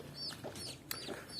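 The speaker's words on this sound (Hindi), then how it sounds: "ये वो देख सकते हैं मुर्गी जो मैंने बाज़ार से उस वक्त लाई थी।" Market-bought hens on a Punjab, Pakistan farm cluck repeatedly, with several short, busy calls close by over steady outdoor background noise.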